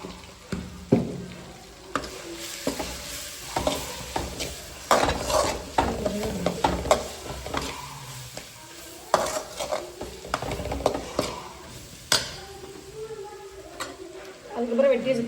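Tomato and onion with a little turmeric sautéing in a pan, steady soft sizzle under repeated scraping and clinking of a spoon against the pan, close up, with a person speaking over it at times.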